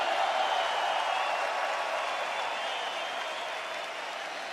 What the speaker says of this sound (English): As you can hear from this crowd, they are very much in appreciation of you and your performance here tonight.